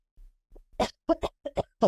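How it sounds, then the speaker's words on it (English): A series of short, sharp coughs, about six or seven in an uneven burst, close and loud against near silence. "bear with me with my coughing"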